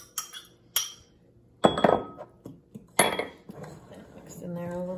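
Melted butter being mixed into sticky rhubarb pudding batter in a bowl, with a utensil clinking and scraping against the dish in several short bursts, close and moderately loud, and a brief tonal hum near the end.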